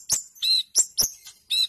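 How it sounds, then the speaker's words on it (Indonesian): Sunbird of the Nectariniidae family singing, a run of sharp, high chirps and short trills in quick, uneven succession, close and alone. "Burung kolibri."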